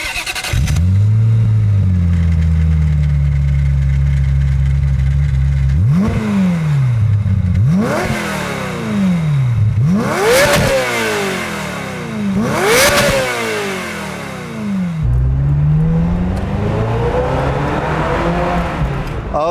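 1995 Ferrari F355 Spider driven on the road, its engine droning at low pitch and then revving hard through repeated sharp rising sweeps between gear changes, loud and close throughout with no speech.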